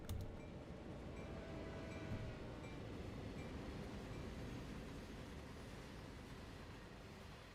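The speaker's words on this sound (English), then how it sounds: "Yeah, you don't really get to go this fast in a freight train generally." A freight train rolls along at high speed in the Train Sim World game, a steady, loud broadband rumble of wheels and wagons that holds constant throughout with no voices.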